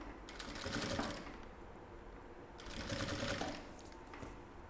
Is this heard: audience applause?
no